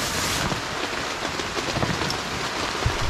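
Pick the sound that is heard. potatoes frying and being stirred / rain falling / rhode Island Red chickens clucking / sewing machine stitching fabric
rain falling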